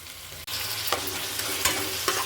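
Chopped tomatoes are stirred into a frying Bengali meat curry masala, a loud close sizzle with a few sharp scraping strokes of the spoon against the pan, and no voices.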